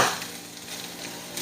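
Chicken sautés quietly in a pan for Filipino kagikit chicken pastil, a soft steady sizzle with faint scraping stirs now and then, heard close and low with no talking.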